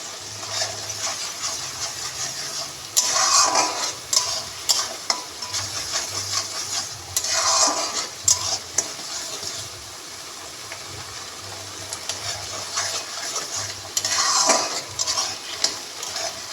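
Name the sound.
spice paste being stirred and fried in a pan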